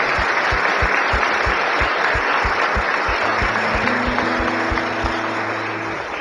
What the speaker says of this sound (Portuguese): Vamos aplaudir com fé a palavra de Deus